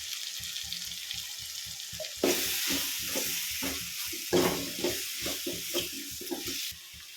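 Chili powder frying in oil for an eggplant tamarind curry, with steady sizzling and repeated stirring scrapes that grow louder and busier midway, a continuous close hiss underneath.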